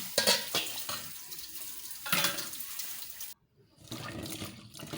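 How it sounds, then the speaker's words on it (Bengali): Running tap water splashes over dried fish (shutki) being washed by hand in a kitchen, with close splashing bursts, a brief pause, then more rinsing. "এবার শুটকিগুলো ভালোভাবে ধুয়ে নিচ্ছি"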